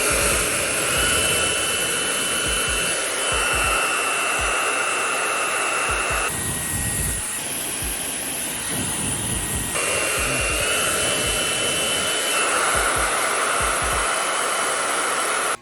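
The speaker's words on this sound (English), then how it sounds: "Babyliss made a tough blow dryer. I would definitely recommend this blow dryer." A Babyliss blow dryer roars steadily and close up with a loud airy whine, its pitch and tone shifting briefly in the middle as the setting or nozzle changes, with no voices.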